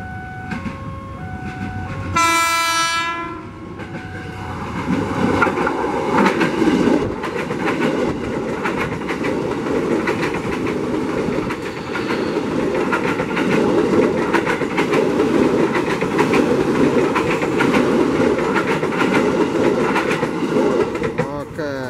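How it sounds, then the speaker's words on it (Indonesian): JR 203 KRL commuter train pulls out of Rangkas Bitung station toward Tanah Abang: a loud horn blast early on, then a long, steady rumble and rhythmic wheel clatter that stays close throughout. "JR 203 nih ya, diberangkatkan dari stasiun Rangkas Bitung menuju Tanah Abang"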